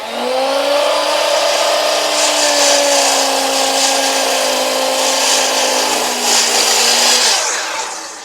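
A big sawmill blade cuts a timber-frame tenon, a loud, sustained tonal whine that dips slightly in pitch as it bites the wood over several seconds, then tapers off near the end; no one speaks.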